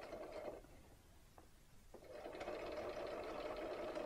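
A sewing machine stitches the corner of a quilt block, running in a steady close whir, pausing briefly for a couple of soft clicks, then resuming evenly.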